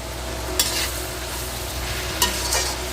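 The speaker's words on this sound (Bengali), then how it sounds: "আঁচটা একটু বেশি রাখবেন, তাহলে পেঁয়াজটা খুব তাড়াতাড়ি ভাজা হবে।" Onions fry in a pan over high heat with a steady, close sizzle, broken by two brief scraping stirs partway through.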